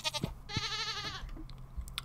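One clear, wavering goat bleat from a Stardew Valley farm barn lasts about a second, with soft game clicks before and after, and no talking.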